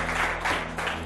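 Studio audience applause on a Brazilian late-night talk show, a steady wash of clapping from a crowd filling the whole moment at fairly even loudness, with no voices over it.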